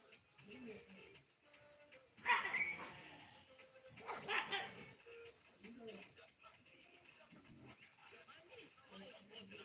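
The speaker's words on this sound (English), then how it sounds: "These dogs keep beefing." Dogs in a village bark, yip and whimper while squabbling over a female, with two loud clusters of snarling barks standing out above the softer, irregular yelps that continue throughout.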